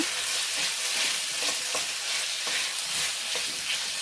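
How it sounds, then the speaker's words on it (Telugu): Eggplant pieces frying in a hot pan while being stirred, a dense close sizzle with soft scraping strokes repeating throughout, no voices. "వంకాయలు కూడా యాడ్ చేసి బాగా ఫ్రై అయిన తర్వాత బాగా ఫ్రై చేద్దాము."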